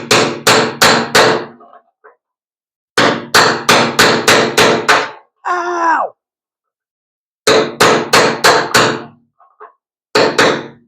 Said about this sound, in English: Just use yourself a little punch here.